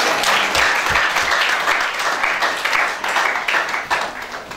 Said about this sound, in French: Est-ce que quelqu'un peut acclamer la parole du Seigneur?